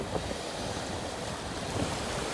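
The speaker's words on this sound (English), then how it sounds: "I hope these waves aren't too loud" Steady ocean surf rolls onto Palm Beach in a continuous broadband wash, close and fairly loud, with wind buffeting the microphone and no voices.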